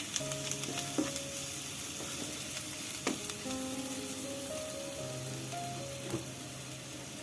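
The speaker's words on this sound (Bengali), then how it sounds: "আর দিয়ে দিচ্ছি 1 চামচ ব্ল্যাক পেপার। এখন সবকিছু ভালো করে আবারও মিক্স করে নিচ্ছি।" Black pepper and spices stirred in a frying pan for a cauliflower fry, giving a steady sizzle with scraping spoon strokes and a few sharp clinks against the pan.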